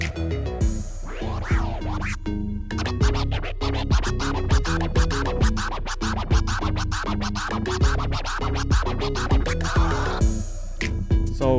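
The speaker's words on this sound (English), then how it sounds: "I do this scratch. I think it's called a tear." Rapid DJ tear scratches on a turntable record, with a continuous stream of choppy, stuttering back-and-forth strokes cut into a short sampled sound, loud and close with no talking.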